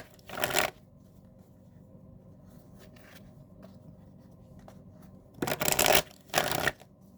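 A tarot card deck is shuffled in quick riffling bursts, one brief burst at the start and two more close together near the end, with quiet handling sounds between them.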